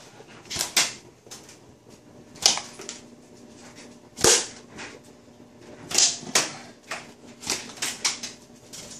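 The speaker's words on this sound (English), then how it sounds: "Okay, you're hitting everything but the celery. It's the wood." A playing card strikes a stalk of celery and the wooden cutting board beneath it, giving a series of sharp, close taps and thwacks at irregular intervals, with about five prominent hits over several seconds and no talk.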